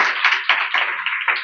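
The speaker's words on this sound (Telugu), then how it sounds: "చప్పట్లు కొడదాం, దేవునికి స్తోత్రం" A church congregation claps together during Sunday worship, a dense, loud burst of many hands with slightly uneven group rhythm, heard alone without talk.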